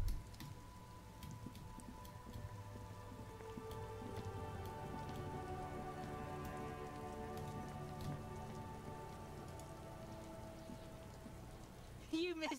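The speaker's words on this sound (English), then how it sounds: "This rain will not let up anytime soon." Steady rain falls in the video game Disco Elysium, a continuous patter of drops on surfaces heard alone at a moderate level for about twelve seconds.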